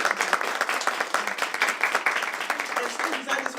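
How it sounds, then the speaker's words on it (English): A crowd claps steadily for a group of eighth-grade middle school band students at a school board work session, dense continuous clapping throughout with some voices mixed in. "let's start with a round of applause for them"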